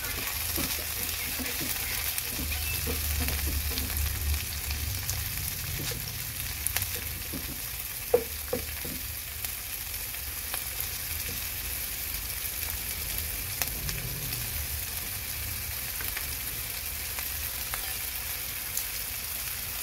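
Tomatoes frying in a pan for a Filipino pineapple chicken in coconut milk dish, a steady close sizzle with scattered scraping stir strokes throughout, no talking.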